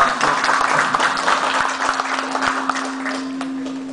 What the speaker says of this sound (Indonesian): Tepuk tangan Bapak.